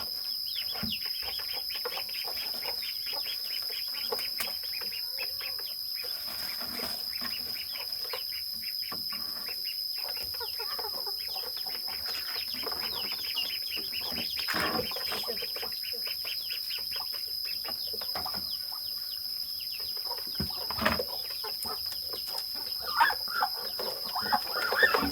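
Chickens on a farm cluck over and over in a dense, busy chorus, close and clear above a steady high insect whine, with louder bursts toward the end and no talking.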